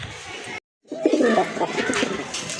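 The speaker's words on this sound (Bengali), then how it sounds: "একজোড়া কালদম কবুতর দেখেন এটা কিন্তু খুব চমৎকার ডাকে" A pair of Kaldom pigeons coo in low, soft, rolling calls close by, after a brief silent gap, while someone talks over them.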